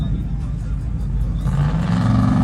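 Squatted trucks ripping around at a truck show in Arkansas, a loud, close engine rumble that climbs into a rising rev partway through, with voices in the background.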